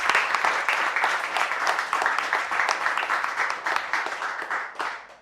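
An audience at a summer project demo applauds, with dense, steady clapping close by that carries on for several seconds and fades out at the end.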